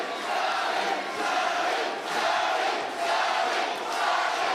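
A boxing arena crowd roars and cheers for Sam Holloway in a dense, sustained wash of noise that swells and dips in waves.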